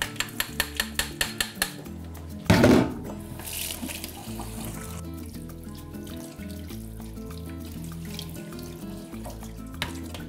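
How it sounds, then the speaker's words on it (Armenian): Soaked grain rinsed under a running tap, opening with a quick series of sharp knocks, then a loud gush of water that settles into steady flow with faint clinks of a bowl. "հարկավոր է անպայման ողողել։ Հոսող ջրի տակ։"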